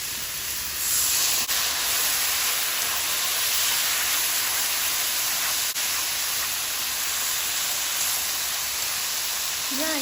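Cabbage stir-fries in a hot pan just after soy sauce goes in, a steady, loud hiss and crackle filling the whole stretch with no pauses.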